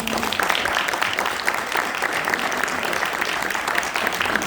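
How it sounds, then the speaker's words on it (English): An audience at a book launch gives a sustained round of applause, an even wash of many hands clapping with no voice standing out. "you guys give her a bigger round of applause."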